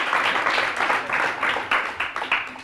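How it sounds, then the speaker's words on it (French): Applause from a school PE class, a dense broadband patter of many hands clapping steadily for nearly three seconds, fairly loud and close, with no talk over it. "On applaudit très très fort."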